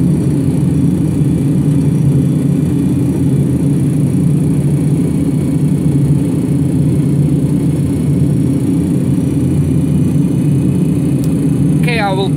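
A simulated Pratt & Whitney JT8D engine of a DC-9 in a flight simulator: a loud, steady, broadband engine drone that holds unchanged throughout, with a few faint clicks near the end.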